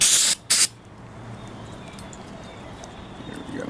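Choke and carburetor cleaner sprayed onto a lawn mower carburetor: two loud, short aerosol hisses in quick succession, followed by quiet background noise.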